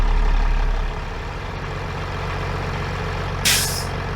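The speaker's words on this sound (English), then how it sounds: "It just reached about 110, 115 PSI, and then it popped." A flatbed truck's air brake system pops off once it reaches full pressure of about 110 to 115 PSI, a sharp, loud hiss bursting over a steady low diesel idle, close by with no voices.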